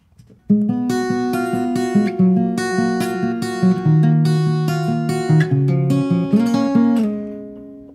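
An acoustic guitar plays a short fingerpicked lick, individual plucked notes ringing out clearly and overlapping, close and fairly loud, fading at the end.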